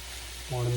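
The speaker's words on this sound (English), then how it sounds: "We're going to stir fry that for 2 minutes." Chicken and shrimp stir-fry in a hot pan, a soft sizzle that swells suddenly louder halfway through as the food is spread and moved, with a tonal hum underneath.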